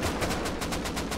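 Rapid video-game gunfire rattles off in a fast, evenly spaced burst of about ten loud, close shots over roughly a second.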